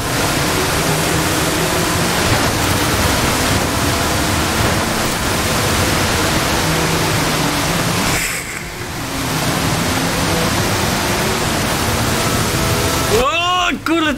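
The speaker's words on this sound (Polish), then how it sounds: "Jakaś taka bryza od tych wodospadów" Steady broadband rush of waterfall spray in the Forza Horizon 5 racing game, a continuous roar that briefly thins and dips before a rising game effect cuts in near the end.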